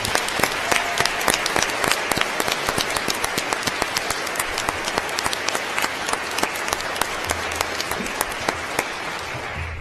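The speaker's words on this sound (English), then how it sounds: "please give all our Superstar honorees one more round of applause" An audience at the Florida Pro Bono Awards ceremony applauds honorees: sustained, loud clapping from a large crowd, with sharp individual claps standing out over the dense wash.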